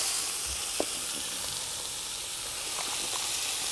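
Onions sizzling in a hot pan with melted cream cheese, a steady close frying hiss with a few small pops and a light stir, no talking.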